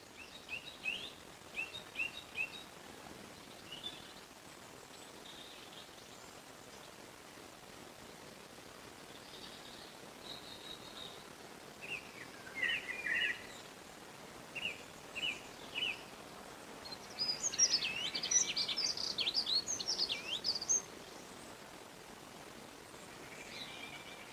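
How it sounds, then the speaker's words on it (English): Birdsong drifts through a quiet garden, scattered chirps and warbling phrases rising in short bursts and a busier cluster near the end, carried over a soft, steady breeze hiss. "Enjoying the birds and the sound of the breeze"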